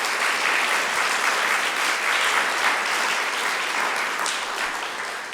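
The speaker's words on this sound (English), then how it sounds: "Let's give all the recipients of Peace Poetry Awards another round of applause" Sustained audience applause for peace poetry award recipients fills the whole stretch, a dense, even wash of many hands clapping with no voices standing out, easing off slightly at the end.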